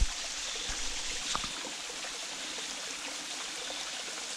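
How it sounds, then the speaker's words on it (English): Waterfall on a mountain hiking trail in South Africa, a soft steady rush of falling water with light trickling detail and a brief splash near the start, heard alone at a modest distance. "Waterfall again."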